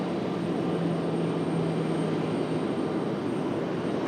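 A jet airliner at Raleigh-Durham International Airport turns onto the runway and powers up for takeoff. A loud, steady engine roar fills the whole stretch with an even broadband rush.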